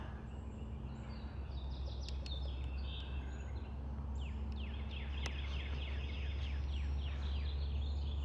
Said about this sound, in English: Hear those birds chirping.